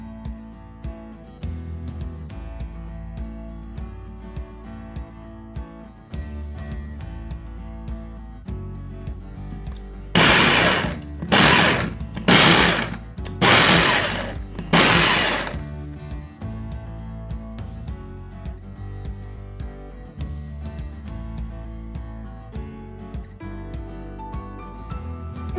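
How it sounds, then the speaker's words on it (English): Food processor grating cauliflower, running in four or five loud bursts of whirring and grinding, each a second or so long, over quiet background music. "So now we're gonna grate our cauliflower."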